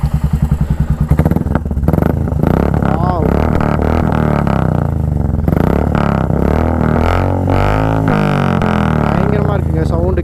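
A Royal Enfield Classic 350 motorcycle with a modified shark silencer exhaust idles with a deep, choppy thump, then revs repeatedly, its exhaust blaring close by.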